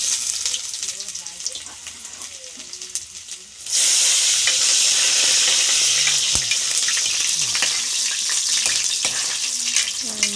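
Sweet potato tops being sautéed in a pan over a wood fire burst into a loud, steady sizzle a few seconds in, after a quieter stretch of low background noise, and the frying hiss continues evenly to the end.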